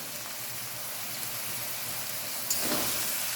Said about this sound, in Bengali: একটু ভালো করে নাড়াচাড়া আর ভাজা ভাজা করে নেব। এবার আমি দিয়ে দেবো 4 থেকে 5টা রসুন থেতো করে রেখেছি